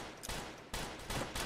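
Pistol gunfire in Roblox Westbound, three quick sharp shots in close succession, each followed by a brief rattling tail, fairly quiet overall.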